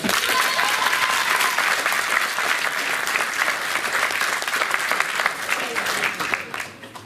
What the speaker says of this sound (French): Je pense que vous pouvez encore applaudir Cheikh Moïse.